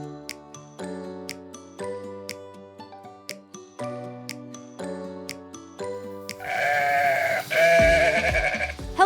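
Sheep on a farm bleat repeatedly in short, clear calls at close range, with a burst of louder, noisier bleating near the end and no talk.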